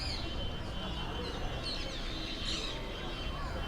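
Birds chirp and call near a tree at a temple in Madurai, with scattered high tweets over a dense, noisy outdoor background.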